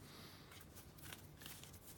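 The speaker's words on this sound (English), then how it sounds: "let's give a good shuffle to the tarot cards" Tarot cards shuffled by hand, a soft rapid riffling and flicking of card stock in quick bursts, very faint and close, with no talking.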